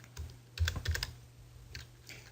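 Clicks on a computer keyboard while typing CSS code braces, a quick burst of several close keystrokes in the middle with a few lighter taps before and after.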